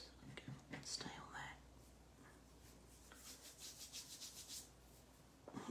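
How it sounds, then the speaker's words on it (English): Glue being rubbed off a handmade paper card, a soft, faint, close scratchy friction in quick strokes, mixed with quiet handling noises. "I'm just rubbing off the glue"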